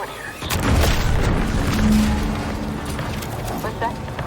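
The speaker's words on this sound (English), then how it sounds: "What's that? An explosion?" A distant explosion in the Outer Worlds 2 video game booms out as a low rumble that swells after a quiet start, then fades into a lingering roar, with a voice talking over part of it.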